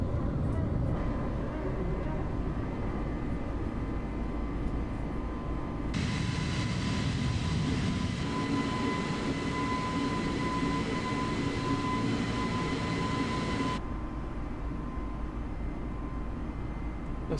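Airliner engines on an A32NX climbing after takeoff in a flight simulator game, a loud, steady roar with a whining tone that brightens midway, then settles back to a continuous drone.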